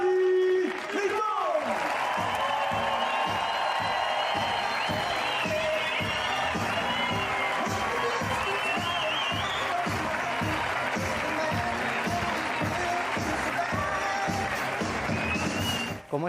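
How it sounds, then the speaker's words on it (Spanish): A crowd greets a Rafa Nadal Academy tennis player, Dani Rincón, with rhythmic clapping, whoops and cheers, steady and lively throughout, while a voice and high-pitched shouts carry over the top. "hay que recibirlo con un gran aplauso, con un gran grito"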